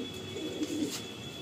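Pigeons cooing nearby in a quiet setting, a few soft low throaty coos in short bursts over faint background hiss.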